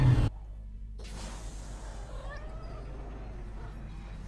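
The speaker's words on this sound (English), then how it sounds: "How many times are we going to see that Loth cat?" A Loth cat from Star Wars: Ahsoka meows in a drawn-out, wavering cry after a brief loud sound at the start, over a low background rumble.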